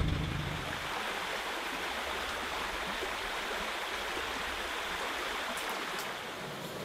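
River flowing steadily nearby, a continuous broad rushing wash of water that stays even and fairly soft from start to end, with no voices.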